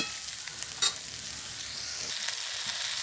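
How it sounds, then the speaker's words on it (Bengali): Spices with turmeric and red chilli powder sautéing in a pan for a rohu fish curry, giving a steady close sizzle with a few faint clinks from stirring. "একটু কষিয়ে নিচ্ছি।"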